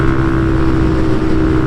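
Benelli TNT 135 motorcycle with a loud aftermarket muffler, its engine droning at a steady, close, loud level throughout, with no voices.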